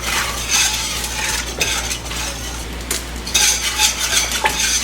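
Spoon scraping and clinking steadily inside a metal pot while cornstarch is stirred into peaches, a close, continuous rhythmic stirring with a few brief pauses and no talk.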